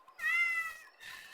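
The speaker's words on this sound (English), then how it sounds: "That is my cat." A house cat meows once in a long, clear, drawn-out call, then gives a second shorter meow, both close and loud in an otherwise quiet room.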